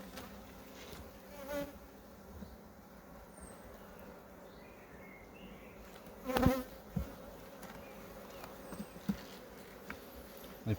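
Honeybees hum steadily over a hive frame, a soft, close, continuous buzz with a few louder swells as individual bees pass near.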